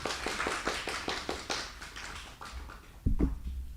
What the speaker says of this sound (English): Round of applause for Arjun